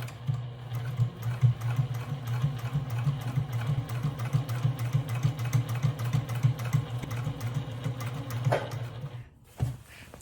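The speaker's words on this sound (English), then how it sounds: "I'm going to shift the fabric to continue to sew along" A sewing machine stitches fabric for a hobo bag in a fast, steady whirring chatter close by, then stops near the end as the fabric is shifted.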